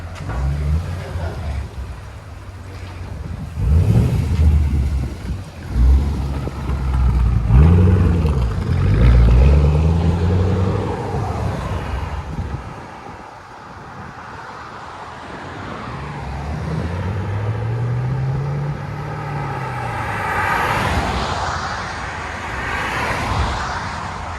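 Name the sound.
2014 Chevy Camaro SS 6.2L LS3 with Borla ATAK exhaust revving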